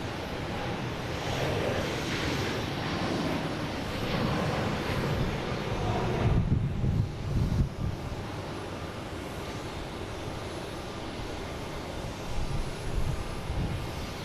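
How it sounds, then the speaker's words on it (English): A JetBlue Airbus A220 arrives at Boston Logan on flight 1500 from Daytona Beach, a continuous jet engine rumble and hiss holding steady and loud, swelling slightly midway, with wind-like noise and no talk. "we got a JetBlue coming in from Daytona Beach, flight 1500 and A220"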